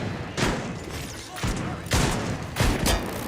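Repeated shotgun blasts in a video game: four loud, broadband booms arrive about every half second to second over a steady background of game noise and gunfire.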